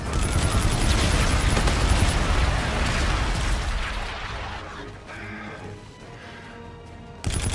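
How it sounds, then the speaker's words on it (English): Loud, dense bombardment of explosions and crashing impacts in the shooter game Call of Duty: Infinite Warfare during multiplayer, a sustained roar that gradually thins out before a final sharp burst. "Friendly bombardment incoming."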